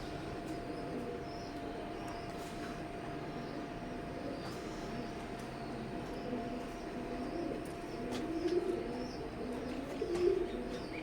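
Imported Saki-line teddy pigeons, a breeding pair, coo in low, steady murmurs under a constant hum, with a few brief clicks and louder coos near the end.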